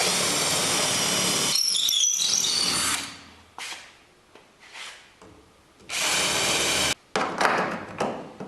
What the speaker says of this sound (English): I'm going to drill through and put these tie down hooks at the back